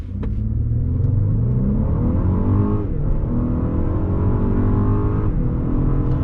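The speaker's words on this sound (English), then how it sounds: "But we'll just do an acceleration test down here." A 2020 Lexus LS 500 full-size luxury sedan pulls hard on a closed road, its engine note climbing steadily with quick gear shifts breaking the rise, loud and continuous from start to finish.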